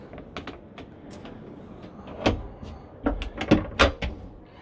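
A door swings open inside a Niesmann Bischoff Arto 76L luxury motorhome: a few close clicks and latch knocks, then a louder clunk and rattle, against quiet room tone.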